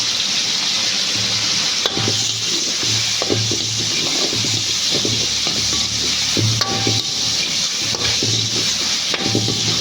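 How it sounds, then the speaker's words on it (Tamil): Chicken with onion, turmeric and salt is stirred in a frying pan, giving a steady sizzle with repeated scraping and clacking of the utensil against the pan, close and alone. "நல்லா மிக்ஸ் பண்ணி விட்டுட்டு"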